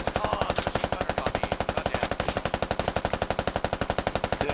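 Sustained machine gun fire from the tactical shooter Squad, a rapid, steady burst of evenly spaced shots running nonstop for several seconds, loud and close with no speech over it.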